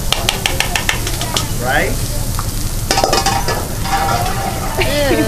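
A big onion sizzles and fries steadily on a hot hibachi grill, with scraping and clinking of spatulas against the griddle over the sizzle and a person talking briefly nearby.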